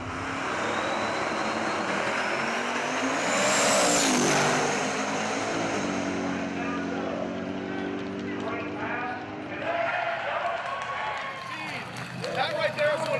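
A drag race car tears down the strip on a record six-second run during Sick Week, its engine rising to a sweeping whine that peaks and then fades, with people talking loudly over much of it.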